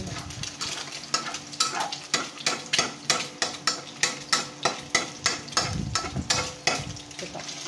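Corned beef frying in a pan with steady sizzling under a regular, rhythmic scrape of a utensil stirring close by, about two strokes per second, with no talking.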